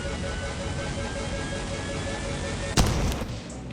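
A jetpack explodes in the video game Lethal Company: a steady engine-like roar runs on, then one sharp loud blast cuts in near the end and fades into rumbling.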